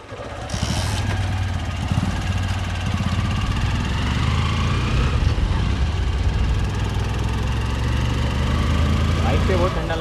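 A motorcycle ridden along Raghuveer Ghat, a mountain road near Khed in Ratnagiri, drones steadily and close up for the whole stretch, with wind rushing past over the engine's low rumble.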